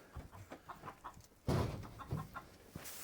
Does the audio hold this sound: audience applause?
no